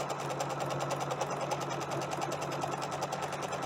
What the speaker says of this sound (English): I'm going to slow this down a little bit and just sew right up against my piping here.